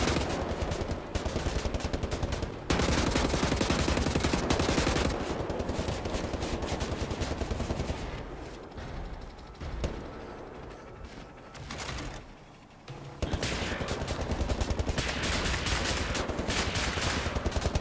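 Sustained automatic gunfire rattles loud and close in Wolfenstein: The New Order, firing in long bursts with short gaps and a brief lull in the middle before the shooting resumes.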